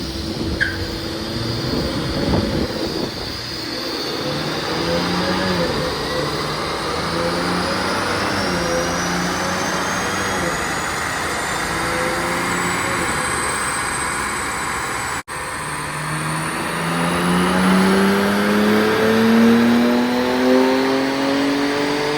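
A tuned 2024 BMW M2 with a CS tune pulls hard in sixth gear on a dyno, its engine note climbing steadily in one long loud rising sweep, with a brief dip partway through before it keeps winding up.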